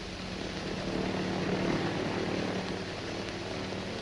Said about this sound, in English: My men in the other planes are circling about.